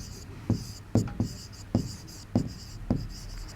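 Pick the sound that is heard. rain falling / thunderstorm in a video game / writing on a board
writing on a board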